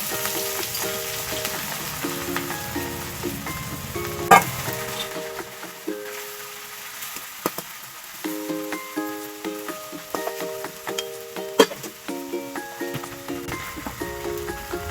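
Dried fish pieces fry in hot oil with turmeric, crackling and popping in sharp bursts over a steady sizzle, with a musical tune playing softly underneath.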